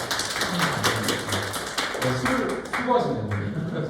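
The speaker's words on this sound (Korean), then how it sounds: "박수 한번 주세요" Audience clapping breaks out during a classroom-style quiz session, moderate and uneven, with voices talking over the claps throughout.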